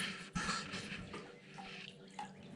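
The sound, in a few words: water running to fill animal feed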